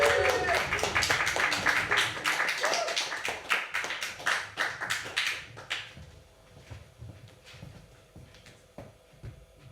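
Comedy club audience breaking into loud, dense clapping and foot stamping that thins into scattered claps and fades over several seconds, heard close in a small room.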